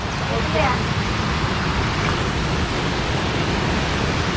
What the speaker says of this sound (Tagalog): Ito na tayo sa Gabaldon Falls.